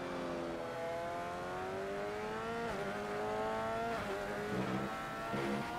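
An F1 car in F1 2015 at the Chinese Grand Prix accelerates with a high, close engine whine. The pitch climbs steadily, dips at a couple of gear changes, then rises again.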